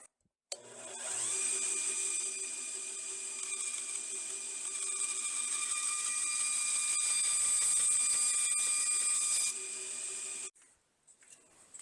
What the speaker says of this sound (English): I think for the next one I'm going to try the bandsaw. So now with the bandsaw,